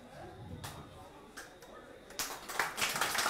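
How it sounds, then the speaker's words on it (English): Audience begins clapping for a scientist's talk, scattered early claps building into fuller applause toward the end, with some voices underneath. "another round of applause for Dr. Lydia Mathger"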